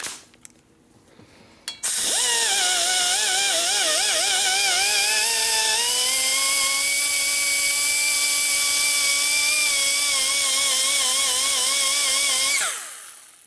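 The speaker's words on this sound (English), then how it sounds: "You can see how I'm grinding." A die grinder ports the cylinder head of a 2005 Harley-Davidson Sportster XL 1200, whining loud and steady at high pitch for about eleven seconds with slight shifts in speed, then spinning down.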